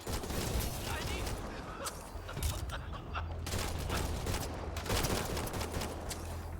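Continuous rapid gunfire crackles through a firefight in the sci-fi shooter Mass Effect Andromeda, with dense bursts of shots, a low rumbling hum beneath and brief lulls, while voices speak over the action.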